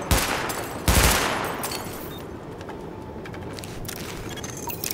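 Gunfire rings out at a weapon test range in the video game The Division. A loud burst of shots leads off, then further reverberant bursts follow and fade across the few seconds.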